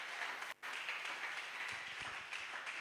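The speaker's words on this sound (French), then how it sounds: "Acclamez d'abord très fortement pour les rois du roi" A church congregation claps loudly and steadily in sustained applause after a call to acclaim the King of kings, a dense continuous wash with one brief dip near the start.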